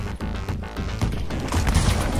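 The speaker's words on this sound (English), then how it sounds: "I just shot him" Gunfire in the World War II shooter Battlefield V: a dense, continuous burst of shots and impacts, loud and close, with a rolling, chaotic texture and no speech.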